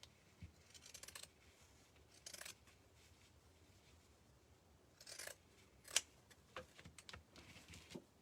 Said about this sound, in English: I think I'm going to use some pinking shears to cut it.